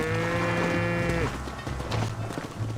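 Cattle herd in Red Dead Redemption, with a long, loud moo up front followed by softer lowing and faint hoof movement underneath, heard alone without talk.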